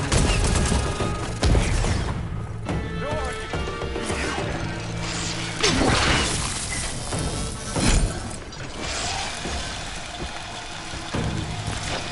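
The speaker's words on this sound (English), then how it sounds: "Covering fire!" Sustained covering gunfire in the Horizon Forbidden West video game, a dense, loud barrage of shots and crashing impacts with several sharp bursts over a constant combat din, no talking.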